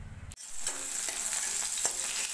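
Radish frying with onions in a hot pan makes a constant, dense sizzle and crackle after a sudden start, with a few faint stirring scrapes underneath.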